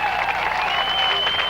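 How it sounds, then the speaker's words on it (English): Crowd applause at a 1998 Ohio high school all-star football game, a steady, loud wash of clapping across a large venue with a sustained tone running underneath. "how about a round of applause for these North-South All-Stars?"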